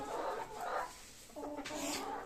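Chickens in a coop cluck softly in short bursts, a few low murmuring calls close by with a quiet pause between them.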